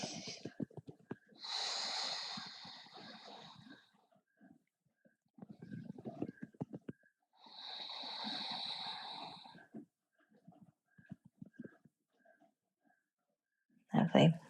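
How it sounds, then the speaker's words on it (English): Two slow, deep, breathy inhale-exhale cycles during an evening seated yoga stretch, close and fairly loud, with quiet pauses and a soft voice between breaths. "We'll take 2 more full breaths here"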